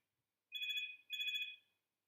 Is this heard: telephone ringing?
yes